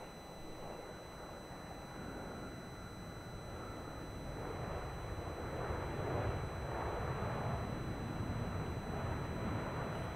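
At Melbourne Airport, a Qantas airliner lines up on runway 34 as a faint, distant, steady jet engine rumble slowly swells, with no voices.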